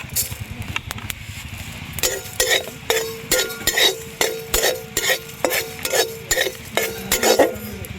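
Whole spices (dried red chillies, cinnamon, coriander, cumin, cardamom and panch phoron) are dry-roasted in a pan, with a spatula scraping and clinking in a steady, even rhythm, close and clear.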